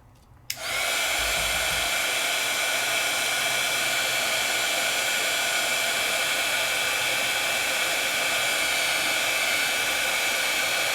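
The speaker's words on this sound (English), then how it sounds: "Time to heat set." A heat tool for setting embossing powder switches on after a brief quiet moment, then blows with a loud, steady whooshing hiss that holds unchanged to the end.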